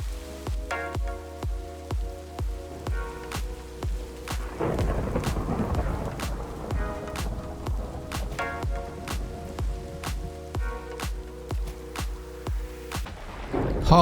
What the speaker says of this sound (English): Oh my god, lightning just struck right there.